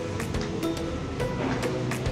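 Surf washes steadily onto the shore at Sanur Beach in Bali, a continuous rushing wash with soft swells rising and falling throughout.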